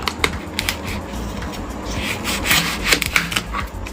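A knife cuts through fruit at home, giving close scraping and rubbing strokes with several sharp crisp snaps, fairly loud and without talk.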